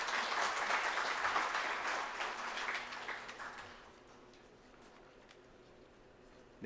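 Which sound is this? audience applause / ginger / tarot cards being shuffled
audience applause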